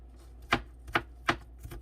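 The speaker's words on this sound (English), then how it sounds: "So you could chop it up as fine as you want" An onion is chopped with a knife on a board for cook-up rice with beef: four crisp, evenly spaced cuts, close and fairly quiet, with no talking.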